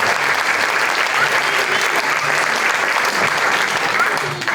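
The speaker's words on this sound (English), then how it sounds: "Can we get another round of applause for contestant number 5, Kanaya Baker?" Sustained audience applause at a high school pageant, a dense, steady wash of many hands clapping from start to finish at a loud, even level.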